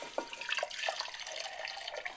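Warm milk mixture poured into a jug holding dried yeast and sugar for crumpet batter, a short close liquid trickle with small splashy drips.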